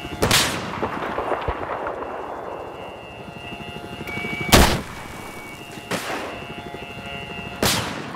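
Igla shoulder-launched missile launcher firing in Battlefield 4, a few sharp booming launches spaced several seconds apart with rumbling tails over a steady droning background, loud and close.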